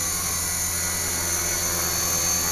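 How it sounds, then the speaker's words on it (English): RC helicopter motor and rotors in a rapid climb, a loud steady high-pitched whine with a constant buzzing drone, close and unbroken throughout. "So the motor doesn't bog so much in the rapid ascent"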